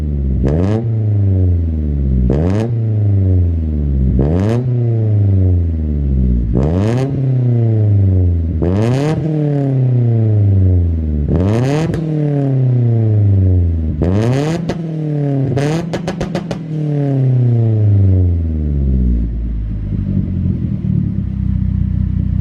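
A car engine running rich, idling with repeated sharp revs that rise and fall every two seconds or so, loud and close, ending in a rougher clattering idle.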